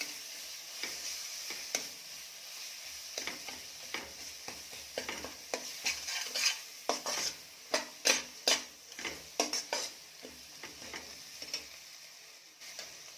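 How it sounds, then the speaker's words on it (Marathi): Ginger-garlic paste sautés in masala for Kolhapuri mutton, a soft sizzle under repeated spatula scrapes and taps against the pan, getting busier and louder midway before easing off. "टाकायची आहे आलं लसूण पेस्ट ही पण छान परतून घ्यायची आहे"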